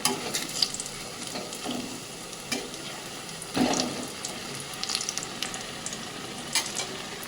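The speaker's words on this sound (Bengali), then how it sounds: "দেখো দুটো রেড পকোড়া কিন্তু আমার একদম ভাজা হয়ে গেছে" Pakoras fry in hot oil with a steady close crackle, broken by scattered louder pops and spits, and no voices.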